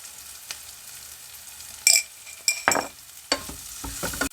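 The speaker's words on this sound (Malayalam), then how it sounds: "എന്നിട്ട് നന്നായിട്ടൊന്നും കൂടെ മിക്സ് ചെയ്യാം ഇനി നമ്മൾ അല്പം മഞ്ഞൾപ്പൊടി കൂടെ ചേർത്ത് കൊടുക്കുന്നുണ്ട്" A spatula stirs and scrapes turmeric powder through vegetables in a pan, a few separate scraping strokes with soft sizzling between, close and moderately loud, with no talk.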